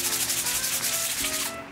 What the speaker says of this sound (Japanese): 紙やすりをかけて、